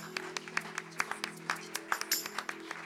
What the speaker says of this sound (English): Give them a wonderful hand of applause.